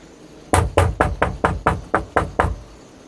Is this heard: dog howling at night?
no